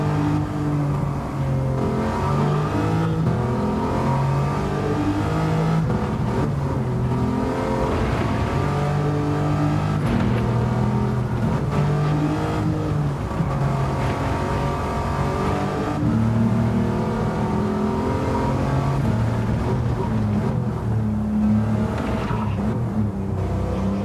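Race car engines roaring through a video game race for cars under 600, a sustained close engine drone with shifting revs and gear changes, steady and loud throughout with no talk.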